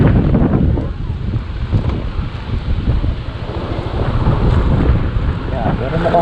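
Strong wind buffets the microphone beside a bay at dusk, a loud continuous rumbling roar with gusty swells that never lets up for the whole stretch.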